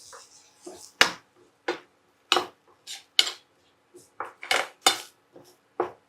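A metal utensil clinks against a bowl as turmeric is stirred into a mixture in a home kitchen, with sharp separate taps and scrapes at an uneven pace, close with quiet gaps between.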